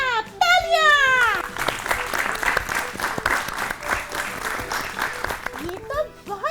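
Children's audience on a school quiz show clapping after a correct answer about PCOS, a dense burst of applause that carries through, with voices heard at the start and end.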